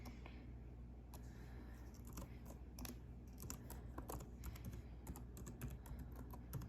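Someone typing a name on a computer keyboard, a quick, soft, irregular patter of keystrokes that continues steadily for several seconds with no voices.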